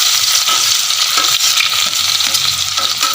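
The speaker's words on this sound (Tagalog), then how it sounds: "At init na po ang ating mantika. Ilagay na natin ating bawang." Garlic hits hot cooking oil in a pan for a Filipino sardine sauté, a steady broadband sizzle and crackle holding close and loud for the whole stretch, with a faint stir underneath and no talking.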